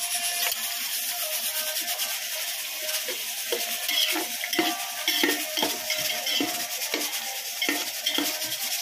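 Onions stirred in a cooking pot, a spoon scraping and rasping in a rapid repetitive rhythm over a constant frying hiss, close and fairly loud with no talking.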